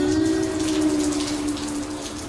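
Rain falls steadily on a partly roofed 19th-century sandstone house under construction in Edinburgh, a continuous close patter and hiss of drops with a faint low hum beneath, no speech.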